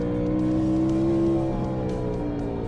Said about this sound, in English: the sound of the car is coming from the TV